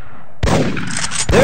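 Sharp, loud gunshot blasts from the Big Buck Hunter Pro hunting video game, one broadband crack near the start followed by a sustained ringing report and a second shot at the end, with no voices.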